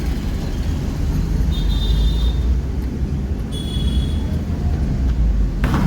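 A car on the road during a driving lesson, a steady loud low rumble of engine and road noise from inside the cabin, with no clear talk.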